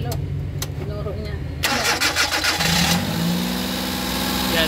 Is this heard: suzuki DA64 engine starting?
yes